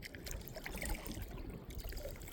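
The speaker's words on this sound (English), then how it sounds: "I can hear the waterfall from here" A distant waterfall roars in a steady, even wash of broadband noise, heard from a kayak on the water. No one speaks.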